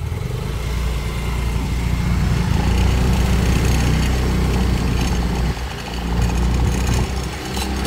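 A motor scooter engine drones steadily while riding through chaotic Indonesian traffic, a loud close buzz with surrounding road noise and no talk.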